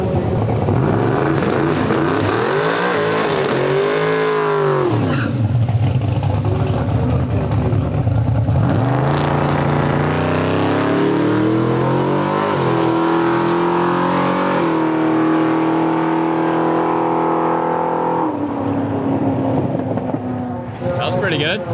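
Drag race car powered by a Steve Morris engine making a pass at a Drop The Hammer drag racing event, its engine roaring loudly and continuously with rising and falling revs, with voices partly over it.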